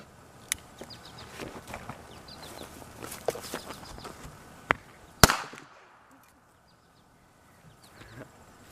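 A sharp firecracker bang stands out after a few smaller pops and rustling, followed by sudden near silence.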